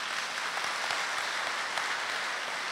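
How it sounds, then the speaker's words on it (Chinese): Steady, dense applause from a concert audience at a Catholic church's fiftieth-anniversary celebration, a continuous even clatter of many hands filling the hall throughout, with no talk over it. "再次给他们热情的掌声"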